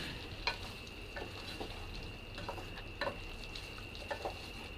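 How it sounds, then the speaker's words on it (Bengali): Chicken kala bhuna being stirred in a pot over medium heat, with a soft, low sizzle broken by a few faint clicks and scrapes of a spoon against the pot. "দেখুন আমি ঢাকনাটি তুলে আবারও বারবার নেড়ে দিব।"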